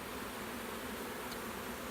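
A huge honeybee swarm gives off a steady, faint, even buzz with no clear breaks, like a low continuous hum.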